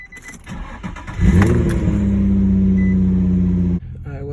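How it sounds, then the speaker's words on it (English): An Infiniti G35 engine cranks and fires after sitting unused for about three days, then settles into a loud, steady idle for a few seconds before cutting off abruptly, with no talking over it. "First startup after 3 days of not using it or something like that."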